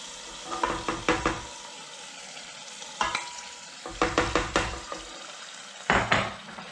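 Tomato puree for an Italian sugo cooking in a pan over low heat, with a soft sizzle under clusters of close, sharp scraping and clanking as a utensil stirs against the pan, in several short bursts with quiet gaps.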